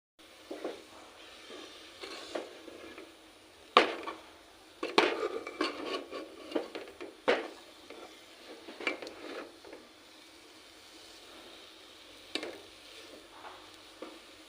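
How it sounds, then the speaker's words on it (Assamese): A ripe jackfruit and semolina mixture stirred in a pan for laddus, with irregular metallic scrapes and clinks of a spoon against the pan, busy bursts separated by quieter stretches, close up. "এতিয়া এই গোটেইখিনি ভালদৰে লৰাই থাকিব লাগিব, নহ'লে তলৰ পৰা লাগি যাব পাৰে"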